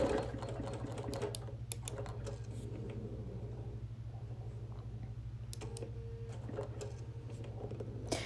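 A sewing machine hums steadily with fine rapid ticking while machine quilting a wool appliquéd quilt, the motor drone continuous throughout with faint clicks scattered over it.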